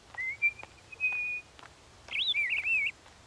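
A person whistles bird-like calls: a long steady rising note, then after a pause a quick warbling trill of wavering chirps, clear and fairly close with no talking, in the style of a cartoon grandparent mimicking birdsong.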